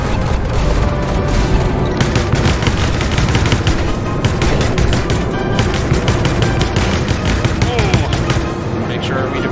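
Space combat in the game Infinity: Battlescape, with dense continuous rapid-fire gunfire and launch blasts rattling steadily at high volume throughout, without a break.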